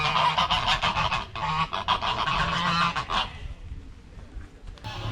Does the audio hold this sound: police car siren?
no